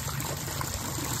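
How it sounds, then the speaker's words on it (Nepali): Water trickling steadily out of a large sal tree trunk at the edge of a lake, a continuous close liquid dribble without pauses. "सालको रुखबाट माथिबाट भित्रबाट पानी आइरहेको अवस्था छ।"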